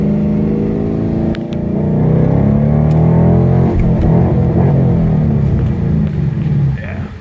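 Aftermarket exhaust on a 2015 Ford Mustang S550 accelerating hard in second gear, a loud, close, rising engine roar with harmonic bands climbing in pitch over several seconds, steady and continuous throughout.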